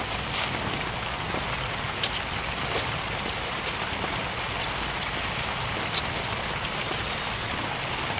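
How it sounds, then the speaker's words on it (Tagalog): Steady heavy rain pours down on a surface, a dense continuous hiss with a few sharper drop or splash accents; no one speaks. "Lakas ng ulan, no?"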